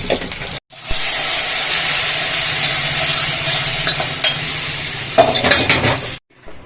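Cumin, mustard seeds, dried red chillies and curry leaves sizzle loudly and steadily in hot oil for several seconds while a spoon stirs and clinks against the pan.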